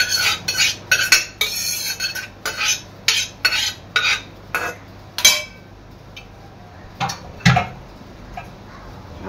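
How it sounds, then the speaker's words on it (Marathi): A metal spoon scrapes the pulp out of cooked moringa drumsticks into a bowl, making a quick series of short, sharp clinking scrapes that are close and crisp, then slow to a couple of final strokes. "मी एका बाउल मध्ये सगळा गर काढून घेते।"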